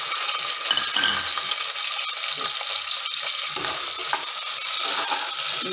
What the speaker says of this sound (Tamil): இந்த வெங்காயம் ஒரு கோல்டன் ப்ரௌன் கலர் வர அளவுக்கு நீங்கள் நல்லா வதக்கி விட்டுக்கணும்.